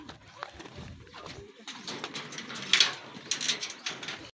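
Racing pigeons arriving at a loft during a pooling race in Pangasinan, with soft cooing and wing flutters, a sliding door rattling and nearby voices in the background.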